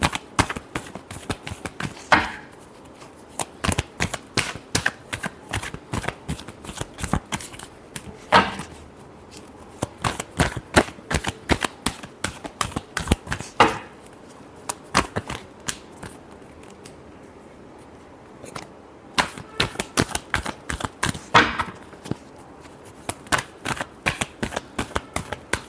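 Tarot cards shuffled by hand, a long run of crisp riffling bursts and flicks repeating steadily at close range, loud and without talk.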